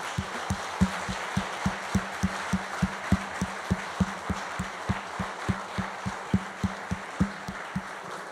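A church congregation claps in steady, rhythmic unison during a worship service, with a regular beat of hand claps under a soft wash of voices and room noise, moderately distant.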